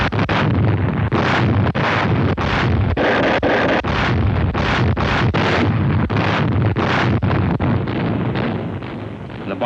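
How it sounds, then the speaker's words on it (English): Heavy naval guns bombard Pacific beaches in a dense, relentless rumble of overlapping booms and blasts, loud and continuous with wind-like roar throughout. "The more those big guns pounded the beaches"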